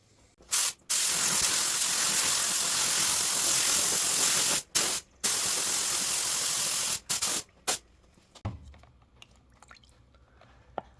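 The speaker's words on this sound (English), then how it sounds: "So I'm going to go ahead and just spray a white base." A spray gun spraying white base paint hisses in several long continuous bursts with short gaps between them, then stops and leaves quiet room noise.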